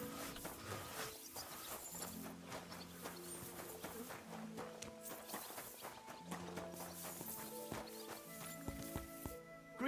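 A horse's hooves clip-clop steadily at a walking pace in the medieval game Kingdom Come: Deliverance II, close and distinct over a bed of layered music, with no talk.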